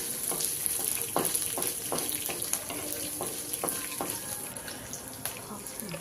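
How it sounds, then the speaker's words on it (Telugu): Green chillies fry in a pan for peanut chutney, a steady sizzle under repeated stirring and scraping taps, close and moderately loud. "ఇలా పచ్చిమిర్చిని కూడా కొద్దిసేపు వేయించుకుని"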